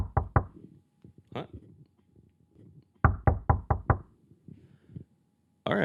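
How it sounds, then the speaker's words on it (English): Knocking at a house door comes in two quick bursts of sharp raps, several knocks each time, close and loud, with quiet background between. "there's a completely random knock at the door, not added in post-production at all"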